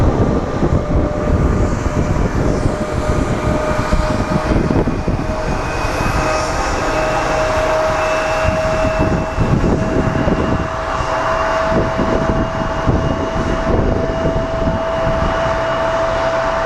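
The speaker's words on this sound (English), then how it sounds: "And up next we have Southwest 2958 coming in from Houston." A Southwest airliner arriving from Houston at Phoenix Sky Harbor gives a loud, continuous jet engine roar with a steady whine, close and sustained throughout, with some wind buffeting and no talking.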